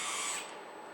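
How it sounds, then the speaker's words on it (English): A Robo Drill CNC machine running a new program pushed past full speed, a steady broadband mechanical whir that is loud at first and eases slightly after the opening half second, with no voices. "The Robo Drill is seriously one of my favorite machines."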